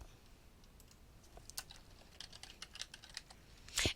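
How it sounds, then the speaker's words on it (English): Someone types notes and tags on a computer keyboard, producing soft, irregular key clicks at close range in a quiet room, ending in a slightly louder flurry of keystrokes. "And at this time I can type in notes about this and I can type in my tags."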